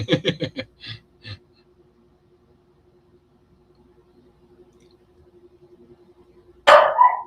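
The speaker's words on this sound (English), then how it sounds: "my dog just started freaking out" A dog barks in a quick burst of four or five close, loud barks, then two more spaced out, followed by a long steady hum and a sudden loud noise burst at the end.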